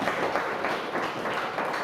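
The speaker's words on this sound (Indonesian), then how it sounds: "berikan aplaus ya" Students in a classroom give a round of applause, a steady, dense patter of many hands clapping that holds evenly for a couple of seconds.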